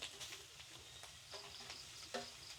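Duck pieces fry in a pan with a soft, constant sizzle, broken by faint stirring scrapes and small crackles, heard fairly close and quiet with no speech.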